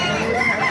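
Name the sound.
chickens and roosters at a poultry market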